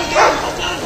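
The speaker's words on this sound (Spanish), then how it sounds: "uno de ellos con un rabioso perro" An angry police dog handled by officers gives one loud, close bark that lasts under a second.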